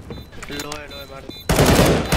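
Burst of automatic gunfire in Counter-Strike on the Cache map, loud and dense, following a stretch of voice chat with players talking over game sounds.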